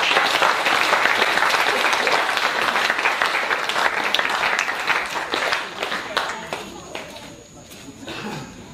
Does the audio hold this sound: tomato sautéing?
no